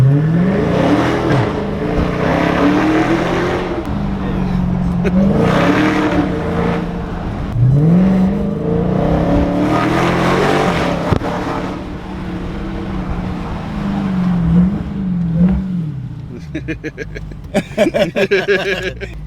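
A 2020 Dodge Charger Daytona Hellcat accelerates hard, and its loud engine rises and falls through several gear changes. Faint talk sits under the engine, which fades toward the end amid clicking interior sounds.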